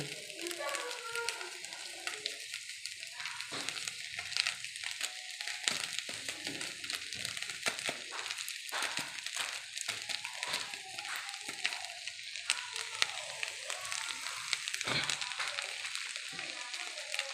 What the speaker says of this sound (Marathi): आणि दुसरी एक पुडी दोन पुड्या टाकते म्हणजे थोडी चांगली टेस्ट येईल त्याला मस्त असा परतून घ्यायचं